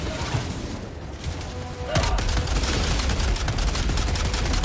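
Dense video game gunfire rattles continuously, growing louder and busier about two seconds in, with rockets and explosions mixed into the sustained shooting.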